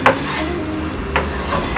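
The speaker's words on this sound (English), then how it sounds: "while we have the garlic in here, we're just going to let's swing it around" Garlic sizzles in vegetable oil in a pan while it is stirred, with a steady frying hiss and a few short scraping strokes.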